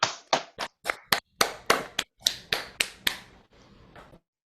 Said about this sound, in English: Don't we get to applaud?